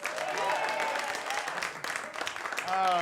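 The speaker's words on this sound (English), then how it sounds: "Let's get a big round of applause for that." Studio audience applause at a Chicago public-access comedy taping, a dense wash of clapping throughout with voices and cheering mixed in, swelling louder near the end.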